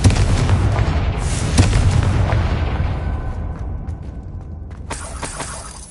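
A Confringo spell in Hogwarts Legacy sets off a heavy, rumbling blast that rolls and slowly fades over several seconds, with a second crackling burst near the end.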